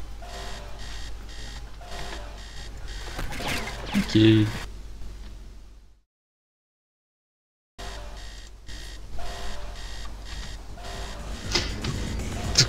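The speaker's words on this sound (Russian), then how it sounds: "Все, будильник звенит, пора проспаться." Alarm clock ringing inside the 2006 Oxide video game Yakuza Revenge, a steady repeating electronic ring with beeps over game music, broken by a short silent gap before the ringing resumes. A voice speaks briefly.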